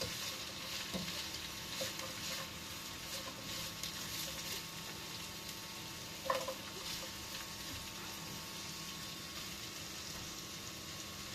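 Onion and garlic sauté in a hot pan with a steady, even sizzle that runs throughout, close and fairly quiet, with a faint clink of a utensil partway through.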